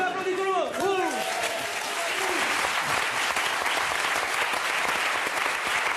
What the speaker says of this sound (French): Bon, tout le monde applaudit, tout le monde.